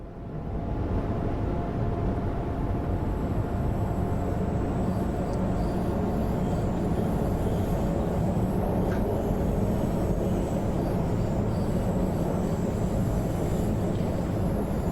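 A Class 710 electric train in TfL Overground livery climbs uphill on the West Coast Main Line in Train Sim World 5, its steady loud traction hum and rolling rumble running unbroken throughout.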